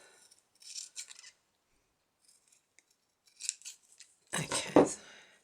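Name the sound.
scissors cutting junk journal embellishment paper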